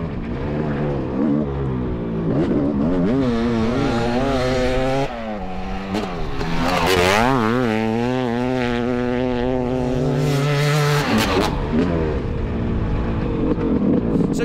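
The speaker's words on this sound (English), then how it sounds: "this is a YZ500 two-stroke" A Yamaha YZ500 two-stroke dirt bike tears around a hot lap, its engine rising and falling through repeated gear changes and revs, buzzing loud and close with sharp pitch sweeps and brief drops between bursts.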